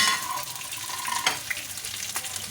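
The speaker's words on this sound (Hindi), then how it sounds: "हल्की आंच पे इसको फ्राई कीजिएगा, तेज़ आंच पे मत करें" Beef chapli kababs with pressed tomato fry in oil over low heat, giving a steady, soft sizzle with a few brief crackles and pops, heard alone.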